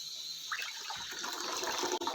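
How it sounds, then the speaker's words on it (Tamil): Water pours and splashes into a container while making an agar-agar jelly cake, a short steady gush with a bright, bubbling texture. "தண்ணி ஊற்றிக்கலாம்"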